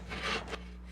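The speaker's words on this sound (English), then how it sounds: "These tough Athabascan women are pounding and sawing in good fun." A saw rasps through wood in two quick strokes during a sawing contest among Athabascan women in Nikolai, Alaska, close and fairly loud over a steady low hum.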